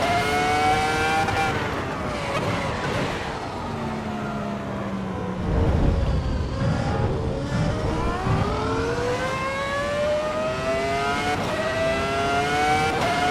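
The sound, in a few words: V10 race car engine in video game Assetto Corsa Evo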